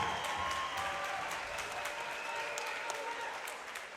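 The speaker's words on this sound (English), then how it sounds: "big round of applause for these two fighters" Crowd applause and cheering at an MMA fight night after a bout between two fighters, a broad steady wash of clapping heard from a distance in an arena, with faint voices mixed in.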